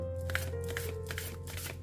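Tarot reading cards are shuffled by hand in a quick, rhythmic run of soft flicking ticks over a steady low hum.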